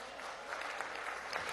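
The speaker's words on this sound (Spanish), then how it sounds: "para nuestros diputados y diputadas también quiero pedir un fuerte aplauso por su compromiso" Applause in the chamber of Venezuela's National Assembly during a legislative session, a quiet, steady patter of many people clapping heard from some distance with no speech over it.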